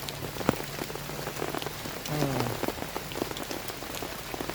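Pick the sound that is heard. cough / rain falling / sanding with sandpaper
rain falling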